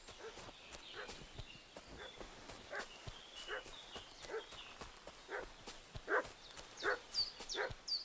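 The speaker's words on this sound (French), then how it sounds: "Pourquoi ce chien fait-il tout ce raffut?" A dog barks loudly and repeatedly in the medieval village of Kingdom Come Deliverance 2, sharp irregular yaps near and far over faint ambient background.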